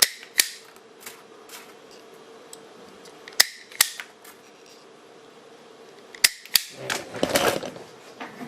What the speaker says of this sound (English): This is too long, so I'll cut this 3 times.